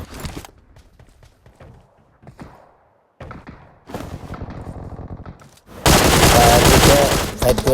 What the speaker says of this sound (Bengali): ফায়ার দিলাম কিন্তু একটাও লাগলো না।